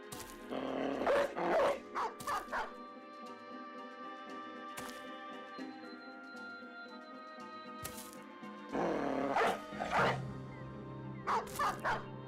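Dogs barking in the video game Battle Brothers: clusters of sharp, close barks and yips at the start and again near the end, over a steady tonal game-music bed with no talking.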